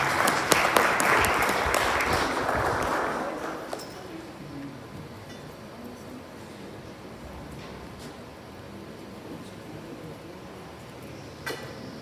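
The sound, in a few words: audience applause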